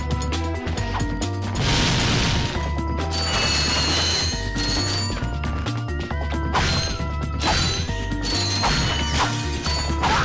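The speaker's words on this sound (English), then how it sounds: "break these boxes over here" Crates smashing open in Ratchet and Clank, a run of quick cracking and clattering breaks with metallic ratchet-like clicks over a busy, loud game soundtrack.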